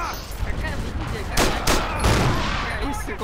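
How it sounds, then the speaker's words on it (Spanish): Gunfire in the Battlefield 2 mod Forgotten Hope 2 on the Omaha Beach map, with a few loud close shots and bursts over constant battle noise, while players talk. "¡Ah, disparo!"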